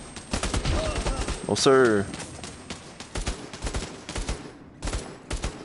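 Rapid gunfire in the PSVR shooter Bravo Team on Spec Ops difficulty, bursts of crackling shots spread across the clip, with a voice speaking briefly in the middle.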